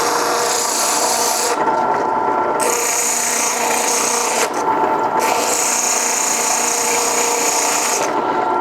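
Sandpaper is held against a spinning shop-made wooden handle knob, producing a steady, close abrasive rasp that runs continuously with slight changes in pressure and no talk.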